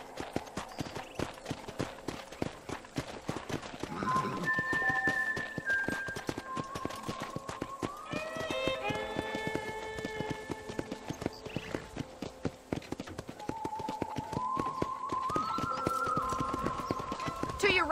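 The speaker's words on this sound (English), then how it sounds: "let's see if you can still ride a horse" Horse hooves clip-clop steadily while riding on a ranch property in the Red Dead Redemption video game, with a faint whinny and musical tones over the rhythmic footfalls.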